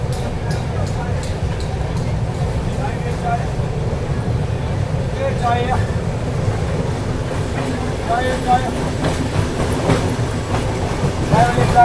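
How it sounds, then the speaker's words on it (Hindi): The Telangana Express passenger train running on the New Delhi to Hyderabad line and taking a curve, heard from inside as a steady low rumble with faint wheel clatter and light squeals, while someone talks over it. "सामने देखो ट्रेन ने जो है कर्व लेना शुरू कर दिया है"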